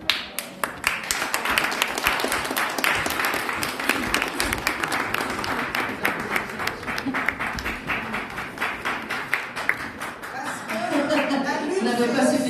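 Audience at an award ceremony in Brussels claps steadily for several seconds, a dense patter of hands that swells toward the end, with voices mixed in.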